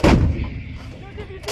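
A single artillery gun firing during a live-fire exercise by US and Philippine Marines, one loud, close, booming blast that rolls off into a rumbling decay.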